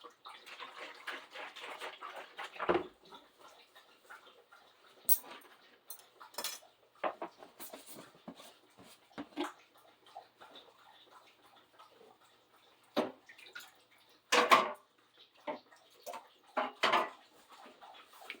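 A thirsty puppy laps water nearby, giving irregular wet clicks and splashy bursts in uneven clusters, moderately close, with no talking.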